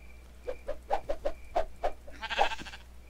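Minecraft sheep bleating in the video game, a run of short, evenly spaced bleats followed by a louder, longer one, clear and close with no talking.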